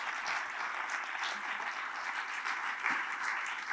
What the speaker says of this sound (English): Big applause to Christina.